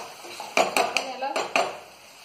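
A metal plate is set on a cooking pan of fish curry, making several close, sharp metallic clinks and clatters in quick succession before it goes quiet.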